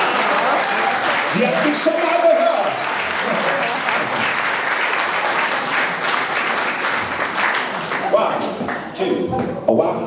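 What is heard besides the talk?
audience applause at jazz concert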